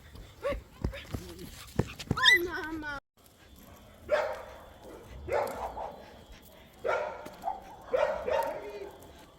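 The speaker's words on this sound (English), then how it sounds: "so many dogs around here" Dogs in Mexico bark and whimper at close range, with high, wavering whines among short yelps, mixed with people talking throughout.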